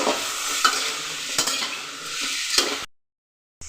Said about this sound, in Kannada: ಈಗ ಸ್ವಲ್ಪ ಫ್ರೈ ಮಾಡೋಣ, ಮಿಕ್ಸ್ ಮಾಡೋಣ ಅದನ್ನು